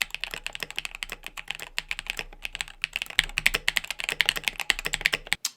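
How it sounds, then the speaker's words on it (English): Fast, steady typing on a mechanical keyboard fitted with NK Silk Olivia linear switches, close and dry, a continuous run of soft, creamy, fairly high-pitched keystrokes with no talk. "if you're actually just typing normally, they're a bit more creamy and soft."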